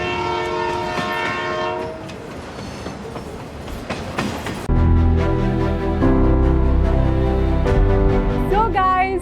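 Pakistan's luxury safari train pulls in with sustained tonal horn blasts, then a louder, heavy rolling rumble of the cars takes over, ending with a wavering whistle-like tone; loud and close.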